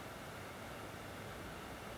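A faint, steady whooshing hum of a Beelink SEi13 Pro mini PC's cooling fan running softly at idle, even and unchanging throughout.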